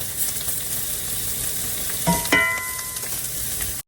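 Honey glazed Brussels sprouts char in a hot pan with a steady soft sizzle, joined near the end by a brief clatter and ringing metallic clink of a utensil against the pan.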